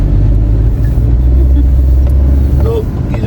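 A Mahindra Thar on a night road trip between Kanpur and Lucknow, its steady engine rumble and road noise loud and close and continuous throughout, with a voice talking over it.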